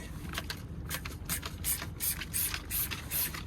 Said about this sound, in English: This is the scrub alloy wheel cleaner.